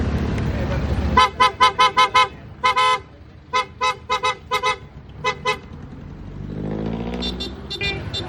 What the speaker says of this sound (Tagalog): back to stock horn